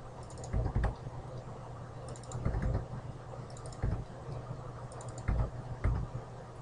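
Computer keyboard typing and mouse double-clicks while editing C# code, in small bursts of quick clicks and taps separated by short pauses, close and fairly quiet.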